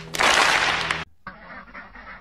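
A duck outdoors in snow gives a loud, harsh quack up close, then a brief pause and a quieter, longer run of calls.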